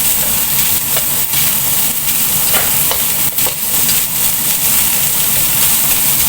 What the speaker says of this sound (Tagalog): So, palutuin muna natin ito ng konti, carrots.